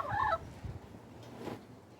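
A backyard chicken gives a brief, nearby clucking call, followed by soft, scattered rustles and faint bird sounds in a quiet outdoor setting.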